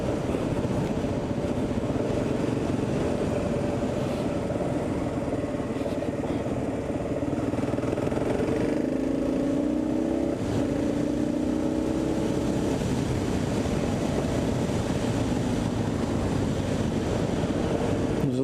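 A Kawasaki KLR motorcycle climbs a mountain road, its engine a steady, close drone blended with constant wind rush that holds at an even level throughout, with no talking.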